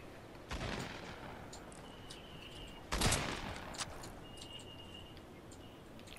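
Gunfire in a video game shootout comes as two sharp distant-sounding shots a few seconds apart, fairly faint, with a quiet ambient bed between them.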